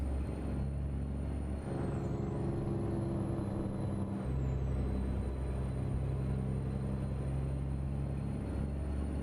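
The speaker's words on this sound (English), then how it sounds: "This truck does not have a lot of power" Truck engine idling and rumbling in a truck simulator game, a steady low drone with a brief air brake hiss, continuous and fairly loud with no talk.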